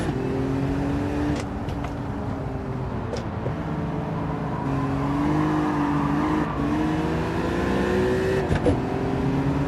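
A BMW E36 driven in Gran Turismo 7, its engine droning steadily with a pitch that rises and falls through gear changes, and brief tire squeals breaking in now and then.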